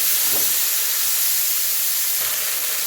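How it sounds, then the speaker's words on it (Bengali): Small fish frying in hot oil in a wok with a dried chilli, a steady close hiss and sizzle that holds evenly throughout with faint clinks. "যেহেতু ছোটো মাছ ভাজবো"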